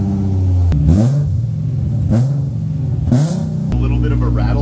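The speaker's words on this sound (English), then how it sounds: "We are ready for our very first test start." A car engine on a raised lift, first start with a newly fitted exhaust, revs loudly up and down three times from a steady idle. It is close and rough, with a raspy edge.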